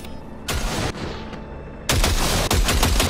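Gunfire in Cyberpunk 2077: a short burst, a brief lull, then a longer sustained volley of rapid, loud shots.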